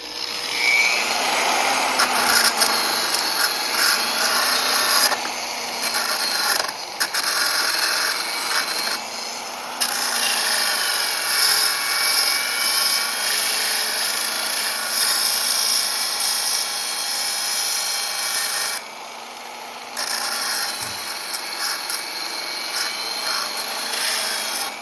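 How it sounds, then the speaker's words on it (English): Continuous grinder whine smoothing welds on a rust-repaired Monte Carlo car body, steady and close, with brief dips in pitch and level as the disc comes off the metal, no talk. "let me go ahead and grind this down a little bit, get it as smooth as I possibly can"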